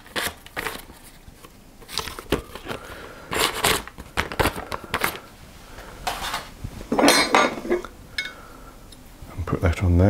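A utensil scrapes leftover cake batter off a bowl or spoon while making a Basque cake, giving several short scrapes and clinks in irregular bursts at close range, with a voice speaking in between.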